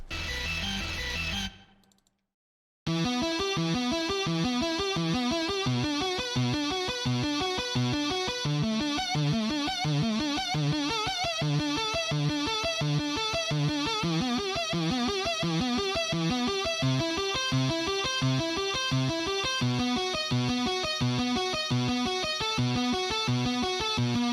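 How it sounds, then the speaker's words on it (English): A loud, buzzy distorted guitar-like synth preset in the UVI Falcon synthesizer plays a steady repeating riff after a brief pause near the start. "Kind of like a distorted guitar."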